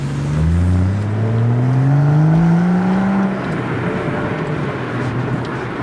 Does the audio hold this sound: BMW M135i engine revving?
yes